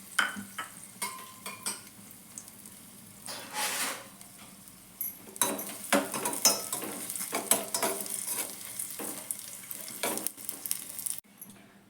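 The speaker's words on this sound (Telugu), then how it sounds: "ఇప్పుడు ఈ సగ్గుబియ్యం ఉడికేలోపు మనం డ్రై ఫ్రూట్స్ని వేయించుకోవాలండి" Dry fruits frying in ghee in a pan, with soft sizzling broken up by repeated stirring scrapes and light clinks of a utensil against the vessel, fairly quiet and close.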